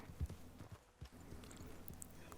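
Soft, quiet hoofbeats of a horse clip-clopping at a slow walk in Red Dead Online, an even rhythm of muted thuds on the ground with little else around.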